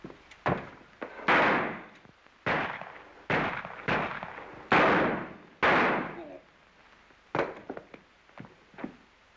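Sharp gunshots crack out in a 1936 Hopalong Cassidy western film, about eight or nine loud reports that ring out irregularly with echoing tails, heard alone with no talking.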